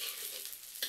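Garlic going into a hot frying pan with dried shrimp makes a soft, steady sizzle with a brief louder crackle near the end, close and fairly quiet.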